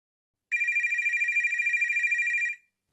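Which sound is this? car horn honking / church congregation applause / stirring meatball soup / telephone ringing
telephone ringing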